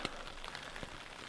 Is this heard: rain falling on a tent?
yes